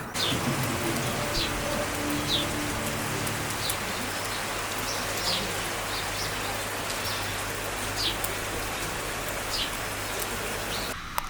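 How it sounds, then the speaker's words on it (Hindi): Steady rain falling in the mountains at Munsiyari, Uttarakhand, a dense continuous hiss close by, with faint bird chirps scattered through and no talking. "मार्च के महीने में बारिश मैंने तो सोचा ही नहीं था"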